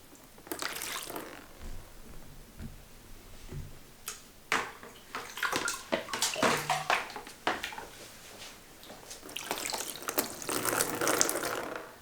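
Water is poured into a children's toy pool in uneven splashy bursts and trickles, quiet in places and louder in others, with small drips between pours.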